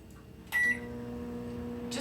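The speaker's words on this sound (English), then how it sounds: "I'm going to pop this in the microwave for about 5 seconds" A microwave oven heats bloomed gelatin: a short beep, then a steady low electric hum from the running oven.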